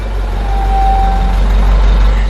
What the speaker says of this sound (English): The truck is here.